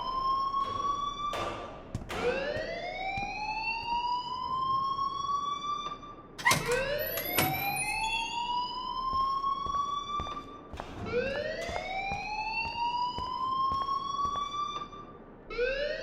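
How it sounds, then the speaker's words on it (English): A school fire alarm in the game Life Is Strange wails in repeated rising electronic sweeps, loud and close, each tone climbing and holding before restarting, with a few thuds between cycles. "please turn off that alarm since that's your job"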